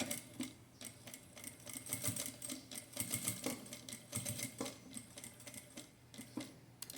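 Small sewing machine stitching a fabric phone holder, running in short rapid bursts with brief pauses, close and clear with no talking.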